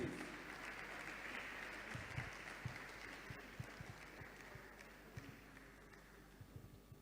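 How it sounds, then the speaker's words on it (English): Applause at a University of Lagos alumni gathering, a fairly quiet and distant patter of many hands clapping, sustained for several seconds and gradually thinning toward the end. "A round of applause, please."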